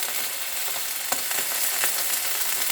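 Steady sizzling of kidney frying gently in butter in a pan, a constant hiss with small crackles and pops, no voices.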